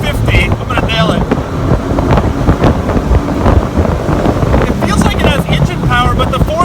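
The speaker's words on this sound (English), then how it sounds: "I'm going 50. I'm gonna nail it." A 1997 Plymouth Prowler with a 4-speed gearbox accelerating hard at full throttle on a bumpy road: a loud, continuous engine roar heavily buffeted by wind, with a voice briefly heard in the cabin.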